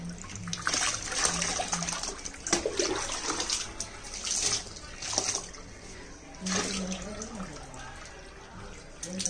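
Water splashes and pours in bursts over a Rottweiler puppy during its bath, wet sloshing close by, with a person's voice heard faintly underneath.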